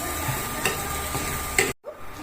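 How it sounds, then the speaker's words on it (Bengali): Mixed vegetables with carrot stirred in a pan, giving a low sizzle broken by a few spatula scrapes and taps, then an abrupt cut near the end. "এই সবগুলোকে আমি একটু খুব ভালো করে নেড়ে চেড়ে নিচ্ছি"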